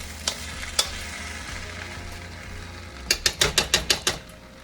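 Chicken fried rice with chopped green onions sizzles in a pan, a soft steady hiss with a few spatula scrapes, then a quick run of sharp metal clicks and scrapes near the end as it is stirred.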